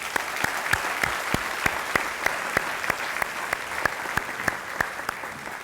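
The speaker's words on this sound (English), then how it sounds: "Would you give them a round of applause?" An audience at a United Way annual meeting claps steadily, a dense, even wash of applause with sharp individual hand claps standing out throughout, at a moderate level with no talking over it.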